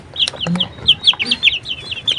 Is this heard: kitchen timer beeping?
no